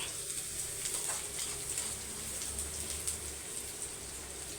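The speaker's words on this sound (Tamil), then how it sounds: "வெங்காயம் வந்து பாதி வதக்கிடுச்சு" Onions sautéing in a pan, half cooked: a steady, moderate sizzle with soft crackles and occasional stirring scrapes, close by and without talk.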